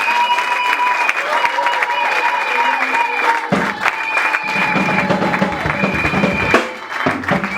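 A church congregation applauds loudly and continuously during a service, a dense close crowd clapping with some cheering and voices mixed in.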